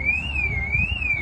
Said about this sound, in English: Someone's alarm keeps going off.